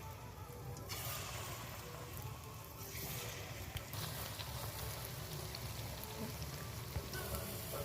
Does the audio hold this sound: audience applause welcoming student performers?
no